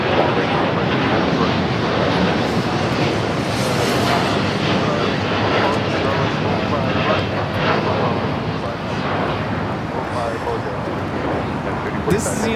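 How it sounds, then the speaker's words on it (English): A United Airlines Boeing 787-9 Dreamliner takes off from LAX for Tokyo Narita, with a loud, continuous engine roar and rumble that stays strong for the whole stretch. "3045 taking off to Tokyo Narita on the 787-9 Dreamliner"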